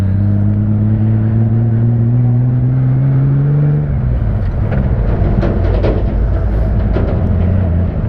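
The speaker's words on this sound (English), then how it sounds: "Traffic always backs up around the tunnel at this time of day" Traffic backs up near a tunnel, with a loud steady engine rumble and a motor's pitch sliding down and settling, then a dense idling drone with faint clicks and knocks, close and continuous, with no talking.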